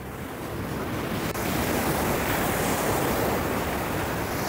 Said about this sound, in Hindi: आई होप पानी की आवाज़ आ रही है आप लोगों को।